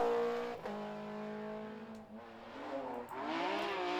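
A BMW M3 rally car runs at speed on a rally stage, engine pitch climbing and falling through gear changes with a brief tire squeal, heard from a distance without commentary.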